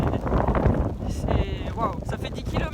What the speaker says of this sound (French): Ouais, le vent souffle,